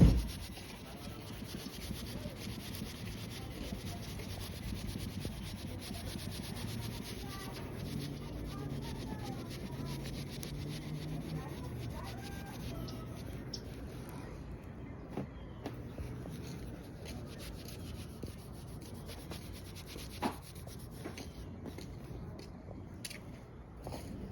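Hand polishing of a Yamaha Banshee cylinder head with wax, a steady close rubbing and scrubbing texture running continuously with small clicks, no talk.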